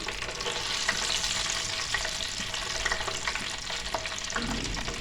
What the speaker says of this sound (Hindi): अब हम इनको कर लेते हैं फ्राई। ऑयल हमारा गर्म हो चुका है, अब इसमें हम डाल देंगे अपने रोल।